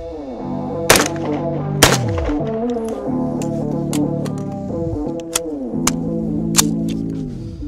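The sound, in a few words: gunshots fired with a Mimtac trigger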